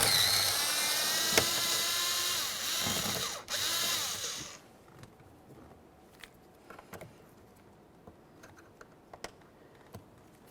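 A power tool whirs steadily for about four seconds while backing out 7mm bolts behind an interior door panel on a 2001-2005 Ford Explorer Sport Trac, then stops, leaving a few faint clicks and handling sounds.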